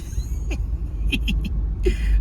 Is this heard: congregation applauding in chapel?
no